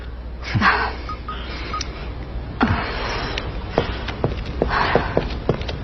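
A telephone being dialed in an indoor setting, with a series of short sharp clicks and tones scattered across a few seconds against steady background noise, with brief rustling in between.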